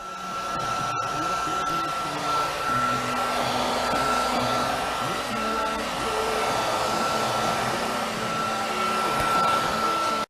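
A heat gun blows steadily on a car fender, probably a Subaru, with a continuous loud whooshing air-and-motor hum and a faint whine running unbroken throughout.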